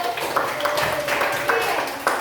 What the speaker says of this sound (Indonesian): Tepuk tangan dulu buat Firdaus.